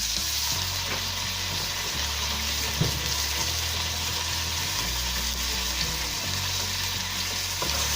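Curd hits frying masala for restaurant-style matar paneer, a loud steady sizzle and hiss with spoon stirring and a low pulsing hum beneath, close and continuous without speech.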